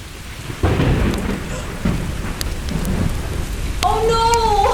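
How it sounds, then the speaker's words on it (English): A thunderstorm in a radio drama scene: steady rain patters throughout while loud thunder claps and rumbles roll in at intervals, and a voice calls out near the end. "Oh no! It's raining!"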